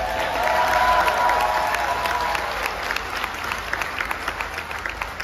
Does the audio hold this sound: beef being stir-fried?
no